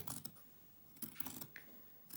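Scissors cutting through four layers of fabric at once: a few quiet, close crunching snips in uneven bursts against near silence.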